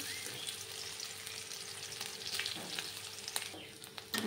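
Quiet, steady sizzling of ginger paste, green chilli, peanuts and coconut frying in a pan, with soft stirring scrapes and a few crackles.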